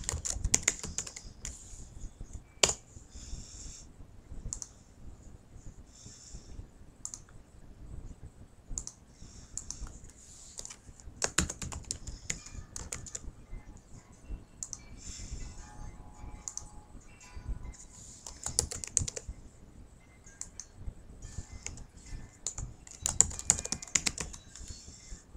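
A computer keyboard is typed on in uneven bursts of crisp, close keystrokes with occasional sharper clicks and short pauses between them, heard alone in a quiet room.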